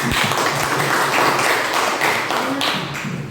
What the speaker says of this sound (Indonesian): Beri tepuk tangan untuk Siva.